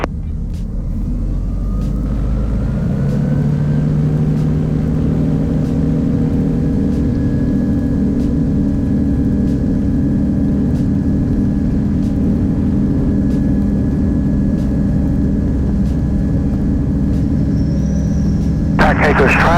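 A light RV homebuilt aircraft departs runway 18 at a small rural Florida airstrip, its engine droning loud and steady throughout with rising tone as it accelerates, a voice talking over the noise.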